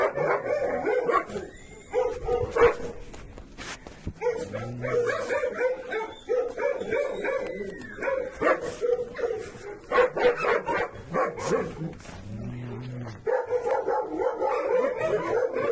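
Several shabby dogs at a shelter barking, yipping and whimpering in irregular bursts, some close and loud, others farther off, with brief quieter gaps between outbreaks.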